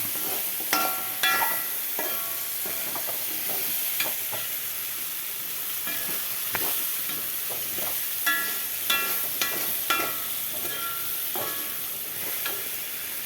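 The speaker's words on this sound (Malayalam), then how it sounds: "എണ്ണയിൽ കിടന്നൊന്ന് വാടട്ടെ കേട്ടോ അപ്പോൾ എണ്ണയ്ക്കകത്ത് കിടന്ന് നന്നായിട്ട് കിടന്ന് മൂത്തിട്ടുണ്ട്" Food frying in hot oil in a pan, a steady dense sizzle with crackles and occasional stirring scrapes, close and continuous with no one talking.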